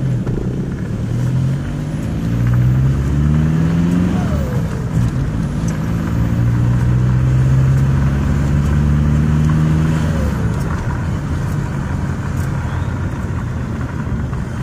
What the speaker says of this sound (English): taking a straight pipe Jetta TDI for a drive.